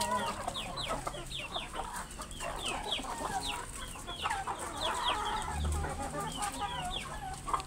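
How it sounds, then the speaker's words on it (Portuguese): Chickens cluck and chatter steadily at close range while pecking at tossed cabbage scraps, with a low rumble briefly underneath and no talking. "Satisfatório jogar aqui repolhinho pras galinhas."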